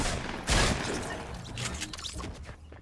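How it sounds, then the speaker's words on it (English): Gunfire aimed at the player in Fortnite gameplay: a sharp loud burst near the half-second mark, then a busy run of shots and crashing impacts that thins out toward the end. "I just got shot at again."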